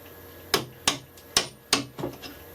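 Hammer blows on a chisel cutting into wood during traditional hand woodworking, four crisp evenly spaced knocks and then a softer double tap, close and clear with no speech.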